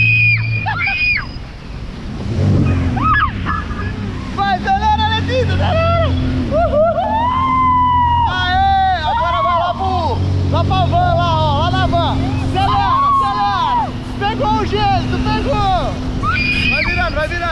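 A jet ski's engine runs and accelerates across open water beneath loud, excited shouting and talking from the riders, with a steady low motor drone and rushing wind throughout.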